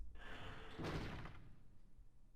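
A door slams shut in the video game Fate/Grand Order, one heavy impact with a short reverberant tail, fairly loud and alone.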